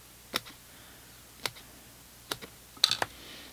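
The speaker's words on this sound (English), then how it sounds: "I'm just snipping up the sides here into little strips" Scissors snip paper into small strips for a fold-flat box cube card, giving a few sharp, isolated cuts at a slow, uneven pace, close and fairly quiet with no talk.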